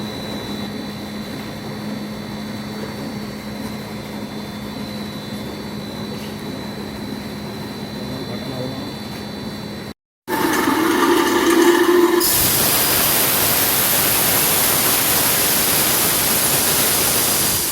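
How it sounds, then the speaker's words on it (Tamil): A take-up machine running on a PVC pipe production line in a factory gives a steady mechanical drone with a faint tone. After a brief dropout, a louder broadband hiss and rush takes over. "அடுத்த கட்டமாக டேக்அப் என்று சொல்லக்கூடிய இந்த மிஷின் வழியே ஊடுருவி சமநிலை அடைந்து மறுபுறம் வெளியே வருகிறது"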